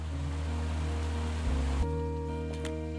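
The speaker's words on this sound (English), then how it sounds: "It's a really nice waterfall down here." A waterfall and stream in the video game Firewatch rush steadily in a loud, continuous wash of water noise, with a low tonal hum beneath and no voices.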